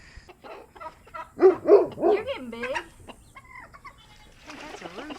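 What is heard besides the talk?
chicken rooster clucking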